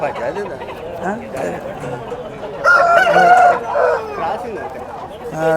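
A rooster crows loudly nearby at the weekly Thursday village poultry market in Galiveedu, its call rising over the busy chatter of the crowd and someone talking close by.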